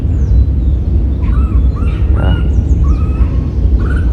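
Birds call and chirp in short, scattered bursts across the grounds of the Osho garden in Koregaon Park, Pune, set against a steady, loud background rumble and hiss, with no voices.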